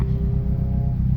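A race car with a turbocharged 20-valve engine idles or runs steadily on low boost at a motorsport track, producing a continuous loud low rumble with a faint tonal whine, close by and without speech.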